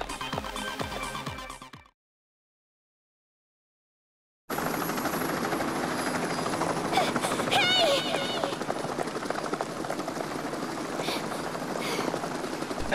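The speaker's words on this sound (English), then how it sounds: "There's the helicopter." Helicopter in the video game Danganronpa Another Episode, a steady broadband rotor and engine wash that fills the second half loudly after a short silence, mixed with scattered explosion-like bursts; talk is heard briefly at the start.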